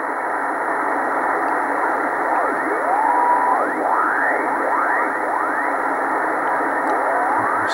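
A 10 meter amateur radio beacon sends Morse code in two alternating tones, the shifting, echoing notes sweeping over a steady band of receiver hiss.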